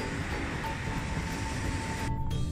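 Super Hokuto limited express train running between Onuma Park and Hakodate, a steady rumbling roll of wheels on track with a faint tonal whine, heard from onboard.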